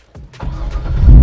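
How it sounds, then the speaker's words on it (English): A car engine cranks and starts, then builds to a rising, steady idle that grows louder toward the end of the short burst, heard close with no talking. "All right, drivers, start your engines."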